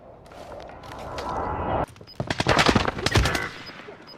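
Rapid gunfire from the Call of Duty: Warzone battle royale game: a dense burst of overlapping shots up front, a brief lull, then another loud volley of sharp automatic cracks in quick succession.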